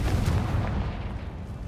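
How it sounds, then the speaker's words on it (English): A Confringo fire spell bursts in Hogwarts Legacy, a loud, dense blast with booming low rumble that fades slightly after the first second, with no talking. "Confringo"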